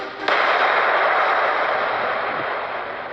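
An atomic bomb explosion sound effect bursts in abruptly and holds as a loud, dense, sustained roar that slowly eases over a few seconds, with no voices.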